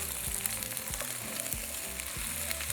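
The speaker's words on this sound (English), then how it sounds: "add a little piece of onion along with your nopalitos. And here just mix them." Nopalitos and onion frying in a pan while being stirred, a steady close sizzle with periodic scraping stirs cutting through at a low, even level.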